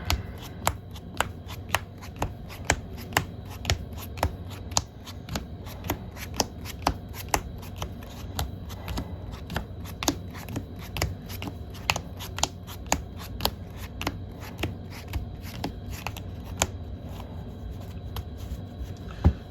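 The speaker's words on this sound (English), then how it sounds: "quick pile shuffle of 8." A deck of trading cards is pile shuffled into eight piles, giving a steady run of sharp, close card slaps at a brisk, even rhythm with no talking.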